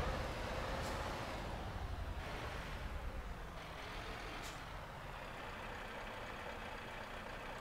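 Scania truck in Euro Truck Simulator 2 backing onto a trailer at night, with a steady loud engine rumble throughout and a few short hissing air-brake bursts near the start and middle.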